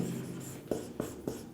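Hand writing with steady scratchy pen or chalk strokes, several short strokes in an even rhythm over a faint background hiss, with no speech heard.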